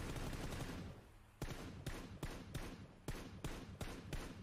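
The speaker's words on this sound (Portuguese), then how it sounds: "É muito sinistro esse tiro dele, cara." Gunfire in the video game PUBG: after a noisy opening, about eight sharp, loud shots crack out in a fairly even rhythm, each ending in a short decay, with no talking.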